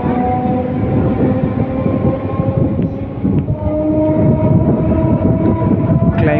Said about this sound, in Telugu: ట్రైన్ అయితే ఆగింది, బయలుదేరిపోతుంది.